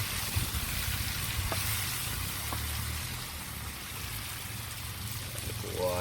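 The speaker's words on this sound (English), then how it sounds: "Water." Water flowing steadily outdoors, a continuous low rushing wash with faint trickling, moderately close and without talk.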